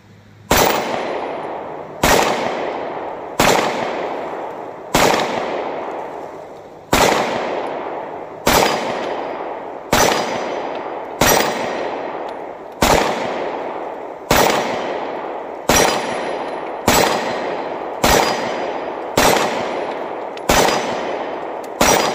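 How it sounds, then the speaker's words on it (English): A Buffalo Cartridge Company BRG9 Elite pistol-caliber rifle firing round after round at a target, each loud sharp report spaced about a second and a half apart with echoing decay, fifteen or so shots in a steady rhythm. "we're just going to continue to put a few rounds down there, see how this gun functions"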